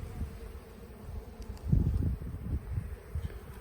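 Honey bees buzz at an opened hive during a spring inspection, a low steady drone close by with a few louder swells as the cover is handled.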